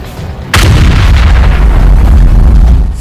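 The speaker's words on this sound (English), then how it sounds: "Mortar, ready to fire! Anti-air guns, get ready!" Mortar and anti-air guns open fire in a tank cartoon: a sharp, loud blast followed by sustained rumbling, booming barrage with crackling detonations continuing without pause, no voices.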